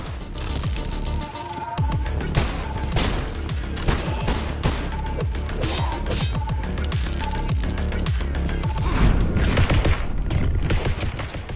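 Rapid gunfire and bullet deflections from a sci-fi roguelike first-person shooter crackle in dense, overlapping bursts, with sharp metallic hits and booming shots filling the space at close range without pause.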